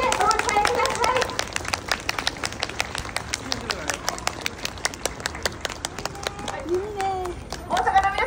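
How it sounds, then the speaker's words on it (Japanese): Audience clapping and applause at a Sanseito political rally in Umeda, Osaka, with sharp hand claps mixed with crowd chatter and a voice speaking over it. "大きな拍手でお迎えください。"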